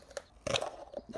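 Plastic intake piece on a Toyota GR86 cracks and snaps loose as it is pried and yanked free: a small click, then a louder crunching burst with a few faint pops trailing after.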